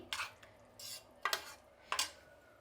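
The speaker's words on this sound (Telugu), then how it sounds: "ఇప్పుడు దీన్ని బాగా కలుపుకుందామండి." A spoon stirring potato curry for puris in a pot, three scraping strokes against the metal, close and fairly quiet with no talking.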